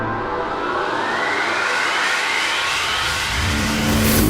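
An SRT Viper sports car engine revs hard and loud, a rising roar that climbs steadily in pitch and builds toward the end, heard alone and close.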